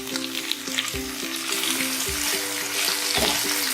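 Chopped radish greens sizzling in a pan with spices and whole red chilies, stirred as they fry: a close, bright crackle runs throughout, with a few soft knocks of the spoon and no talk.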